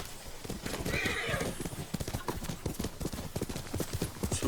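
A horse in Ghost of Tsushima Director's Cut on PC whinnies loudly while hooves clip-clop in a fast, steady gallop rhythm throughout, close and prominent.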